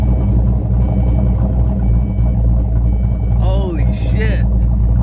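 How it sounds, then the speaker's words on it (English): A car engine idles with a choppy cam, giving a loping low rumble with uneven pulses throughout, close and loud, and a brief high chirping sound near the end. "this car is chopping. Chop, chop, chop, chop"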